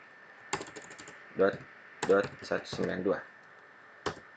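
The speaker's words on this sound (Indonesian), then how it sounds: "Nah, di sini kita ketik seperti kode berikut." Keys tapped on a computer keyboard while entering configuration code in a terminal, short clusters of clicks in brief bursts separated by pauses, close and fairly quiet.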